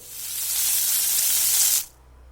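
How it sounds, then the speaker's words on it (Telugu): Whole peeled onion bulbs fry lightly in a hot pan for an onion capsicum curry, a bright steady hiss of sizzling oil that cuts off abruptly, leaving quiet room tone. "ఒలిచిపెట్టుకున్న ఉల్లిపాయలు వేసి చాలా లైట్గా వేపుకోవాలి"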